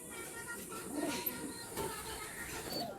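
Imported pigeons in a loft give soft, low cooing over a faint background hum, quiet and intermittent.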